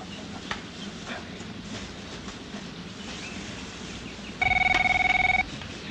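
A telephone rings with a bright electronic two-tone trill in one loud burst of about a second, cutting over steady rumbling train and rail background noise.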